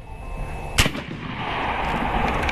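A single sharp report from an AEA Zeus .72 caliber air rifle firing spike ammunition outdoors, a loud crack followed by a fading hiss and ambient rumble.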